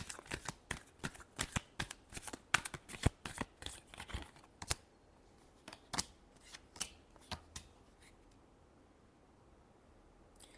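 Tarot cards being shuffled up close in quick, crisp riffling bursts, then a few sparser flicks and taps that thin out toward the end.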